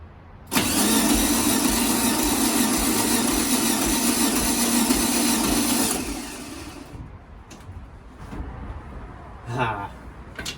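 Volkswagen Beetle engine start attempt: a loud, close, harsh whirring crank runs for about five seconds, then cuts out, leaving quiet clicks and faint handling noises.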